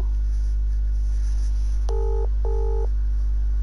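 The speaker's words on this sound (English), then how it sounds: "Check your phone, I'm calling you." Phone call dialing tones: two short, clean beeps in succession over a constant low hum, with no talk.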